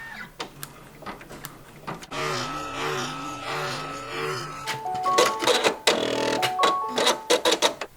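Brother PRS100 embroidery machine stitching white underlay onto a patch, a steady rapid mechanical whir with clicking needle strokes, then sharper repeated clacks and beeps near the end, close and fairly quiet.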